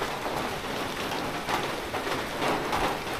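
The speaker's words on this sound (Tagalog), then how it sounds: "Ano ba itong ulan?" Steady rain pouring down, a dense hiss of drops striking surfaces close by, continuous with no voices.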